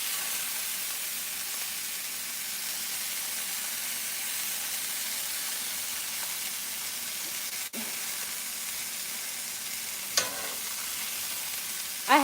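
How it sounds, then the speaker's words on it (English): Pork sausages fry in a pan with a steady, close, even sizzle, joined by a couple of brief clicks or taps near the end. "These are pork sausages. So we'll let that cook a little more."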